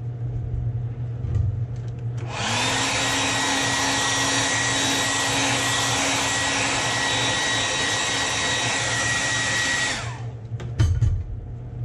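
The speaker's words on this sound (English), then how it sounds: "I'll go ahead and give it a quick heat set." A heat gun blows steadily for about seven seconds to heat-set silver paint on a Duo Realis 120-style lure blank, with a loud, even whooshing roar that starts and stops abruptly over a low background hum.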